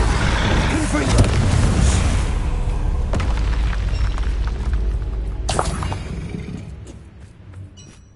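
A Confringo fire spell explodes in Hogwarts Legacy as a deep, loud, rumbling boom that roars on for several seconds over busy game noise before trailing off toward the end.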